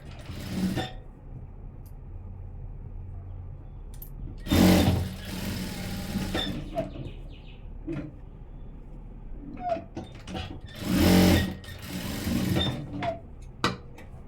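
A sewing machine stitching a blouse runs in a few short, loud bursts of rapid whirring, separated by quieter gaps of small handling clicks and rustles.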